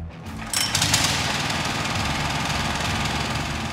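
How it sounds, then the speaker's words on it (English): A Vanguard single-cylinder engine fitted with a high inclination package runs loud and close, starting with a brief lighter rattle and then settling into a steady, rapid, buzzing drone. "With specially equipped Vanguard single-cylinder engines, those troublesome inclines are no trouble at all."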